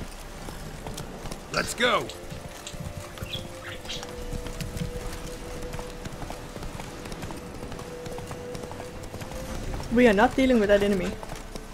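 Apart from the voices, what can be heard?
horse Roach galloping, hooves clip-clopping, in video game The Witcher 3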